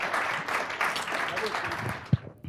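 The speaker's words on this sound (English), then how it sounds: "Let's give him a round of applause." A small group at a cooking competition claps in a short burst of applause, with voices talking over it, then the clapping trails off.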